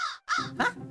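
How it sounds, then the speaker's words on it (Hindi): A crow caws twice in quick succession, close and clear, with a short gap between the calls and a fainter trailing caw after them. "कौवा आ गया।"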